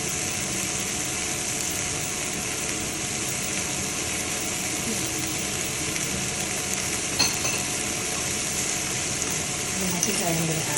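Tofu and broccolini stir-frying in an oiled wok give a loud, continuous close-up sizzle with crackling spatter, plus an occasional scrape of stirring throughout.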